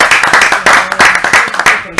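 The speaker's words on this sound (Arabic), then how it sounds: "تصفيقة كبيرة كبيرة كبيرة على أجواءنا" A studio audience on a live talk and music show claps loudly and continuously in dense applause, close and full, with a voice speaking over it.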